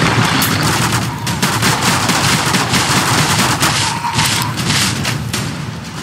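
Rapid gunfire rattles continuously in the zombie video game Zombie Stories, dense bursts of shots and booms layered loudly for several seconds.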